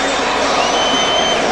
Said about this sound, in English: Hissing and booing from the French